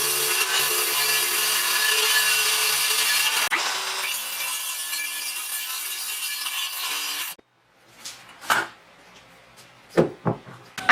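Wood pieces being cut to size for a rotating kitchen condiment rack: a long steady, loud saw whine that drops in pitch midway and then stops, followed by a few brief knocks and handling clunks.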